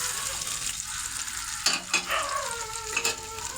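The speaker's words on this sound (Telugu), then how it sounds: "అదే బాండిట్లో ఇంకొంచెం ఆయిల్ వేసుకుంటున్నానండి" Half a kilo of tomatoes frying in oil in a pan, a constant bright sizzle with a few stirring scrapes, close and alone without talking.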